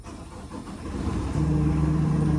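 Diesel engine of a 2016 Kenworth T370 truck with PX9 350 HP engine being restarted by remote, a low rumble that catches and settles into a steady, loud idle.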